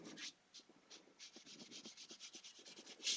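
A 00 fine steel wool pad is rubbed gently over a painted surface to scuff it, making soft, quick, repeated scratchy strokes in a steady rhythm, close by and fairly quiet.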